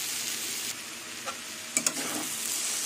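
Teasel gourd and potatoes fry in a pan on a gas stove with a soft, continuous sizzle, broken by a few sharp clicks and scrapes of stirring; no voices.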